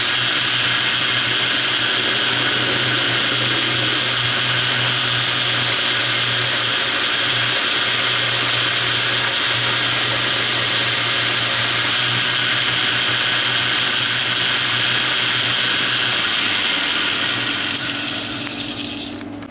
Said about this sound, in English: I'm going to drill a 1/4-inch pilot hole first.